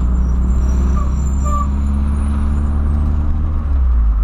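A small truck passes on the road near a car, with a loud, steady engine rumble and road noise that stay strong throughout.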